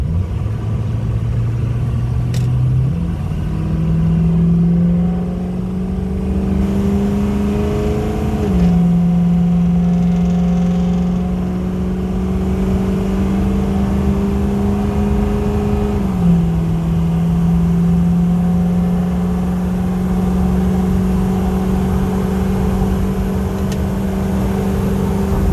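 A 2006 Ford F-350 King Ranch with a 6.0L Powerstroke diesel accelerates at half throttle, its loud droning engine climbing in pitch through several gear shifts, heard from inside the cab over steady road rumble.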